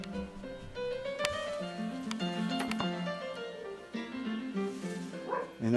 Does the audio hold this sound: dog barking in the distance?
yes